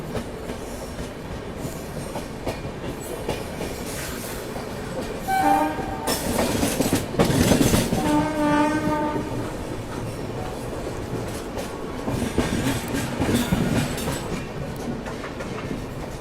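Busy Raipur railway station ambience with rumbling trains, clattering wheels and a couple of loud horn blasts rising over the steady background noise.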